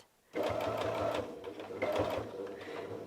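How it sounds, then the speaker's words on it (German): A sewing machine stitches quilted patchwork fabric in two close, steady runs with a rhythmic mechanical chatter, pausing briefly between them, with no talk over it. "Wenn wir das haben, nehmen wir das mit zur Nähmaschine und nähen das Ganze einmal fest."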